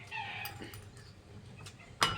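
A cat meows faintly a few times in a quiet room, with soft background noise and a sharper short sound near the end.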